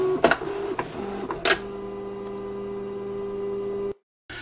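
A Roland STIKA SV-8 vinyl cutting machine cuts a sheet for a Nissan 180SX Pandem radio-control body, giving a few sharp motor whirs and clicks at first, then a steady mechanical hum that stops abruptly.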